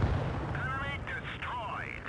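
Tank cannon firing in the video game World of Tanks Blitz, a single sharp boom at the start followed by rumbling decay, with a voice talking over the rest.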